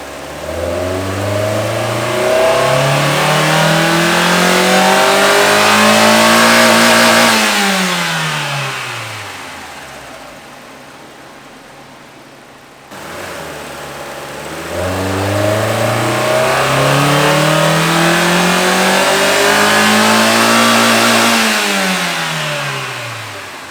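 A Mazda Miata NB2 engine on a dyno revs twice, each pull climbing steadily through the gears to a loud high-rpm peak before easing off, with no talking.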